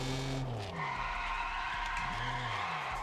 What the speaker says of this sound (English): This car is just meant for drifting.